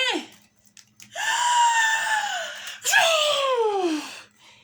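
A voice imitates a tremendous sneeze: a short gasping intake, then two long, loud, drawn-out wailing bursts that fall in pitch before fading.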